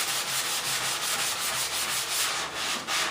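Hand sanding with a steady back-and-forth scrubbing rhythm, close and continuous, with roughly regular strokes and no voices.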